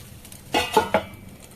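A lid set onto a pan of paddu batter with three quick metallic clinks and a short ringing tone, close and clear, then quiet.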